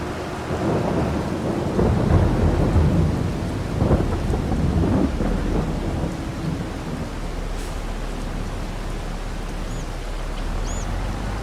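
Rain and rolling thunder in the Farming Simulator 22 video game, with a loud, rumbling thunderclap early on over steady rainfall that continues alone, quieter and hissing, after the thunder fades.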